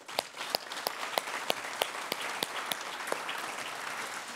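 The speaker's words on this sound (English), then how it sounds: "they deserve a lot of thanks and a round of applause" A conference audience at a plenary session claps, a modest scattering of distinct hand claps that thins out toward the end.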